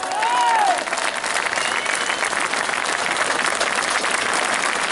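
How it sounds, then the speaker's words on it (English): A crowd at a street march in Birmingham breaks into sustained applause, with a brief whistle at the start and a steady, dense wash of clapping throughout. "Give Becky a round of applause."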